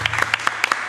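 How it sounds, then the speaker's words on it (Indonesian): Audience applause at an Indonesian show with Ariel NOAH and Pidi Baiq: a short burst of scattered hand claps, fairly faint, with a low hum underneath. "Sekali lagi semuanya tepuk tangan buat"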